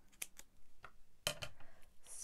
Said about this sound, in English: State of my scissors.